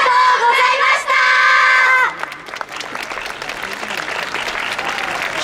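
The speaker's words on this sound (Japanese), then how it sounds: "大きな拍手をどうぞ" A crowd applauds and cheers after a dance performance at the Hamakoi yosakoi festival, with loud music cutting off at about two seconds and scattered clapping and shouts continuing afterward.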